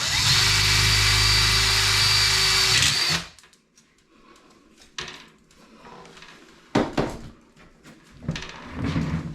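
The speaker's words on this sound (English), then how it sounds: "Need to drill it back out" A power drill runs loud and steady for about three seconds, drilling out a hole in a freeze dryer, then stops, leaving scattered clunks and handling sounds.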